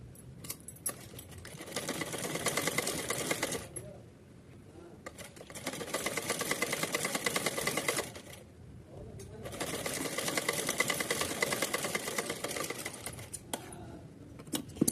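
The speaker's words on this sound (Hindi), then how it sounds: "तो चलिए इसमें सिलाई लगा लेते हैं।" A sewing machine stitches gota lace onto a small Kanha ji outfit in three steady whirring runs, each separated by a brief pause, close and clear with no talking.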